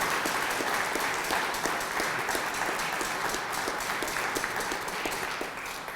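A room full of people applauds veterans at a remembrance celebration, dense sustained clapping throughout at an even level that eases slightly near the end.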